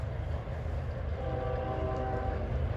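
A train horn sounds in a long, steady blast for a grade crossing at Sinking Spring, Pennsylvania, over the low rumble of a passing train.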